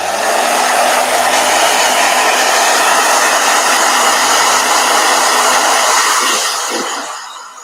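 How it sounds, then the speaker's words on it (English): Blow dryer running loud and close in a watercolor painting session, a steady whooshing motor hum that holds for several seconds before winding down at the end; no talk. "Blow dryer."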